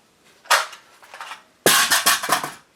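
An aluminum rifle magazine dropping free from a Bear Creek Arsenal BC-15 rifle with a 16-inch barrel: two sharp metallic clatters, a lighter one and then a louder rattling impact, close and with no speech.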